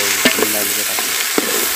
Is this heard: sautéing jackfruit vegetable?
yes